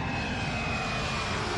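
An airplane engine drones loud and steady throughout, with a constant roar and no voices.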